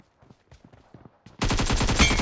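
Gunfire in the mobile shooter BGMI (PUBG Mobile), starting after a sequence of quiet clicks and taps and erupting into a loud, continuous rapid-fire burst of automatic shots up close.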